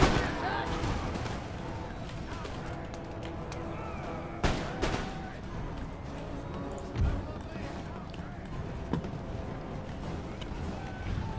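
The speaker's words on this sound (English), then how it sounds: "Artillery pounding them." Artillery booms in a Napoleonic-era Empire: Total War battle, with heavy thuds landing among the constant rumble and clatter of fighting while a voice talks over it.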